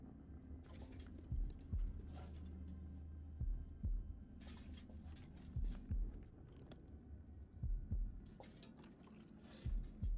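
A heartbeat thumps in House of Ashes, a horror video game, as deep paired pulses that recur every couple of seconds over a steady low hum and dim background ambience.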